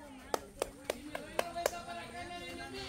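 A contestant in a mini tournament game claps six sharp, evenly spaced times in about a second and a half, close by, with voices and room noise around them.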